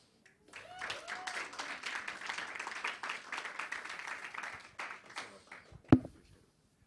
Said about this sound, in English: Please give the group another round of applause.